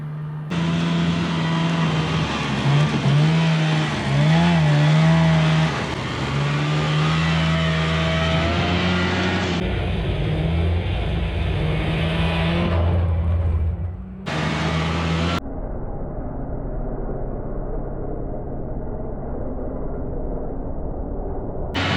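A tracked mini tank with a two-cylinder two-stroke engine drives off-road. Its buzzy motor drones loud and close, and the pitch wavers as it revs and eases over rough ground, with abrupt shifts in tone near the end.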